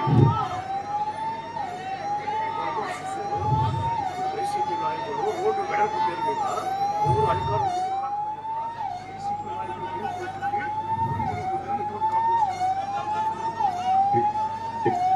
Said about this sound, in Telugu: అంబులెన్స్ వస్తామని దారి ఇచ్చేయండి, దారివ్వండి